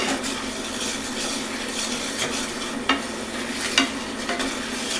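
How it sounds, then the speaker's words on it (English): Cinnamon roasted almond coating mixture being stirred in a pot, with a steady scraping swish and a couple of sharper clinks of the spoon against the pan, close and continuous with no talking. "we're going to stir this in because we want to get it pretty well blended before we put our almonds in"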